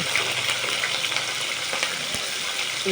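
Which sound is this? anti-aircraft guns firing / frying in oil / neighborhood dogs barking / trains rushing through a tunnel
frying in oil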